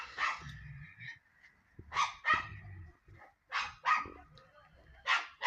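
Dogs bark in short bursts from some distance in a village in the evening, several barks spaced across the clip with quiet gaps between them.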